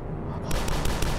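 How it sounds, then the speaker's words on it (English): A turret opens fire in the video game DUSK, loud rapid gunfire bursts starting abruptly and pounding steadily through the short moment. "Oh, I think that was a turret."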